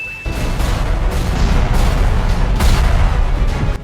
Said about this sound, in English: What could possibly be causing these explosions?